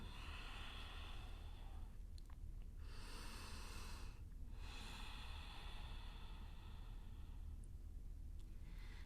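Slow, audible breathing during a hatha yoga pose, a few soft breaths with pauses between them, close and quiet with a steady low background hiss.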